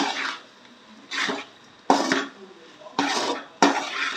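A spoon scrapes and stirs prepared beef boti in a metal pan in four or five separate bursts, each a short, close rasping clatter with quiet pauses between.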